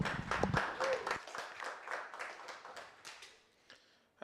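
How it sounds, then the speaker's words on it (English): Audience at a Pykonik Python meetup clapping for a speaker taking the stage, a brief burst of hands that thins into scattered, fading claps, with a little talk mixed in near the start. "Big round of applause."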